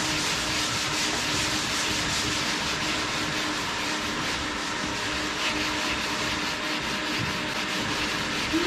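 Body filler being block sanded on a Ford Escort Mk1 Mexico during a respray, a steady continuous abrasive rasp with a rhythmic rubbing texture, close and fairly loud throughout with no talking.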